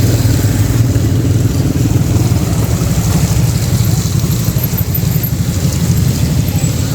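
Steady stream of motorcycles and other vehicles rolling along the Lembah Anai road from Padang Panjang, a continuous engine drone with passing buzz, fairly loud and close, no talk.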